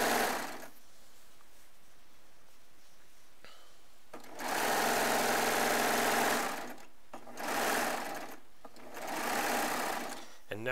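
A Baby Lock serger stitches in three bursts, a fast, loud mechanical whir starting and stopping, with quiet pauses and faint room noise between runs.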